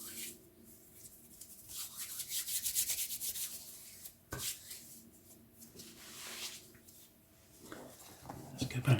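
Fingers rub together to clear excess Pritt Stick glue, giving soft, close, irregular rubbing and brushing strokes in quiet surroundings, with a brief pause before the rubbing resumes.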